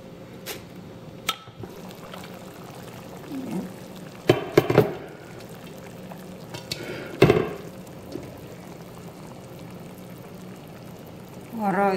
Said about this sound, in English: Alright, boiling now